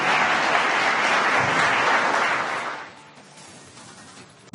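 An audience at a tribal folk music festival in Bengaluru applauds for a performing group, a full sustained burst of clapping that fades out after about three seconds.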